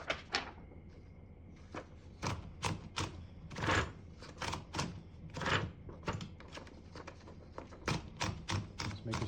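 Paper being loaded into a 1956 Smith-Corona Skyriter portable typewriter, with a series of close, sharp clicks and ratcheting knocks from the platen and paper mechanism, fairly quiet and irregular.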